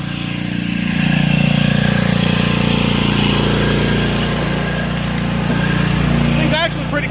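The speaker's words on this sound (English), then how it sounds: "I'm gonna go around the yard with it right now" A vintage Ariens Emperor riding mower drives across a yard with its small engine droning steadily and loud throughout, while someone talks over it.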